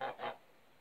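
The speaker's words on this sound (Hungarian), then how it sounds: "Megint Liba." Two quick honks from a goose, nasal and fairly faint, followed by a quiet pause and a softer third call.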